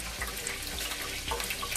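Water runs steadily from a tap into a kitchen sink during house cleaning, a continuous close hiss with light splashing and no pauses.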